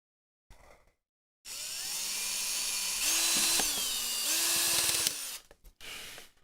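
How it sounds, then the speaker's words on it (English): A power drill bores a hole through metal during a Dreamcast console HDMI mod install, a steady close whine that rises in pitch partway through as it bites, running several seconds alone before cutting out. "Drill another hole."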